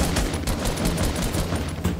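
Rapid automatic gunfire from a Fortnite match rattles continuously and loudly for the whole stretch, dense overlapping bursts with no pause and no talking.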